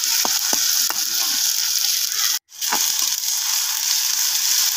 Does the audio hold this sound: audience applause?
no